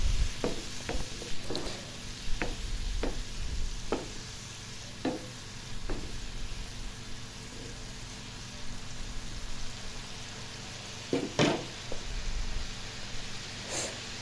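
Turmeric, chili and coriander masala frying in a pan for a Rupchanda fish curry with potatoes and eggplant, a continuous close sizzle punctuated by regular sharp taps and scrapes of a spatula, no talking.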